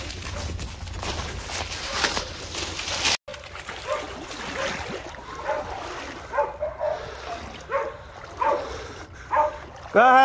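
A hunting dog bays in bursts over outdoor rustling while tracking a bear, with a few short, loud howls standing out from the background.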